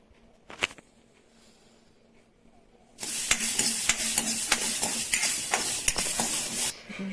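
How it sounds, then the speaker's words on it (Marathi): Pigeon pea seeds roasting in a little oil in a home kitchen pan, a few faint clinks, then steady sizzling and crackling with stirring scrapes that continue close and moderately loud. "आणि ही जे तुरीचे शेंगाचे दाणे आहेत ते पण थोडे तेल टाकून भाजून घेऊ."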